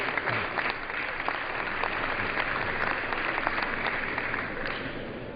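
Steady applause from members in a legislative house chamber during a session, a dense, even wash of clapping that carries on without a break for several seconds.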